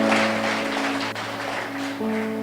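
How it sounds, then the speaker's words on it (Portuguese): A church congregation applauds in a dense, steady wash of clapping, with sustained keyboard tones held underneath. "Vamos aplaudir ao Senhor pela vida do Felipe"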